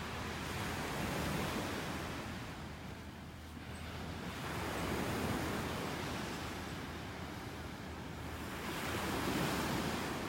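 Steady surf along a beach in North Naples, Florida, with waves swelling and receding in slow rhythmic washes and some wind noise on the microphone, and no voices.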